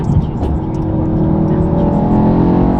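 Deep, loud exhaust note of a Mercedes-AMG E63 S under acceleration, heard from inside the cabin as a continuous rising engine drone lasting a few seconds.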